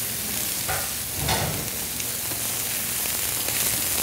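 Scallops sear in a super hot pan with little oil, giving a loud, steady sizzle that runs the whole time, with a couple of brief swells where the pan is moved.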